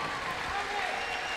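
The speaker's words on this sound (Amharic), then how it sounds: "አጨብጭቡ ከዚህ በላይ።" A church congregation claps together in a dense, steady wash of applause that fills the whole stretch, with a voice faintly mixed in.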